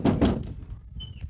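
Two quick, solid knocks on a door sound close up, followed by a faint squeak.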